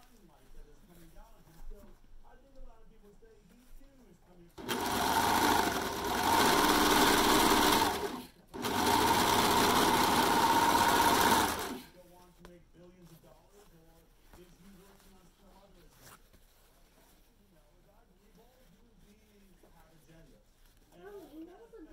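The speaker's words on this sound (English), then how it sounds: "So I am going to serge this one just to kind of close it up though." A serger stitches the seam of a homemade fabric face mask, running loud and steady in two close bursts of a few seconds each with a brief pause between, while quiet talk comes before and after.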